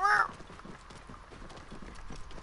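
Rapid hoofbeats from a group of horses galloping in the video game Assassin's Creed Origins, under a brief whinny-like call at the start, with a steady drumming rhythm at moderate distance.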